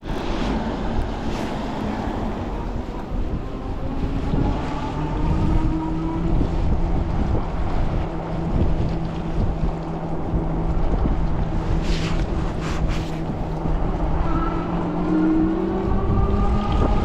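Steady wind roar buffets the microphone while riding an Ariel Rider Grizzly electric bike on a cool, gusty morning road, a loud continuous rushing with a faint whine of the motor beneath it and no talk.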